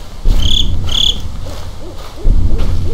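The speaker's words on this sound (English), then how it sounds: "Oh, shut up, bird." Owl hoots in the horror game Slender: The Arrival, two clear hoots early on over a dense bed of night insects and crickets, followed by a low rumbling ambience.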